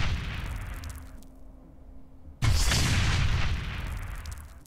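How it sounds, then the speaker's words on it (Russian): In the video game Dreadlands, a sudden loud explosion of a bomb pig bursts in after a brief quiet stretch, following continuous rumbling game noise, then a crackling roar that slowly fades. "эти свинки-то взрываются, ни хера себе"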